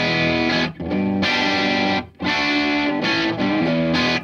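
An electric guitar played through the distortion channel of a Paul Reed Smith Harmonic Generator amp rings out in loud, saturated sustained chords, with two brief drops between strums and no talking.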